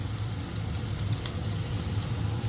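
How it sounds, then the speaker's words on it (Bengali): Potatoes sizzling and frying steadily in a pan with cumin, turmeric, chilli, salt and ginger-garlic paste, a continuous close hiss with faint stirring scrapes and no talk. "এবার একটু ভালো করে কষিয়ে নেব"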